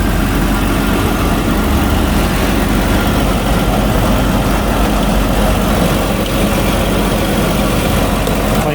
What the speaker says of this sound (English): Sounds smooth. Well, I don't believe there's anything wrong with that motor.